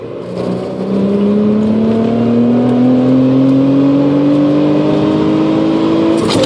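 A Mazda 626 pulls hard under acceleration, its engine note climbing steadily and loudly with no break, heard from inside the car.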